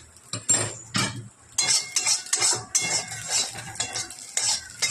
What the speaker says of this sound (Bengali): মুগ ডালটা ভাজা বসিয়ে দিই